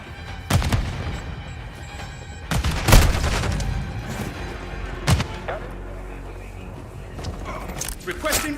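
A grenade blast and bursts of gunfire in the video game Modern Warfare land as several heavy booms and sharp shots spread across the stretch, loud and close, with a voice speaking throughout.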